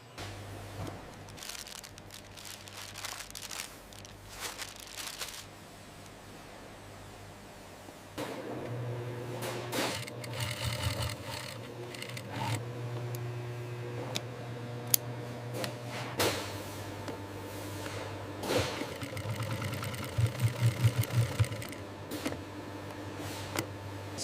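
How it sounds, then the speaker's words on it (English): A sewing machine stitches a pocket welt on bison leather with a steady mechanical hum and rapid ticking needle strokes, stopping and restarting in several runs, alongside occasional clicks and handling noises. "This is the pocket welt stitching"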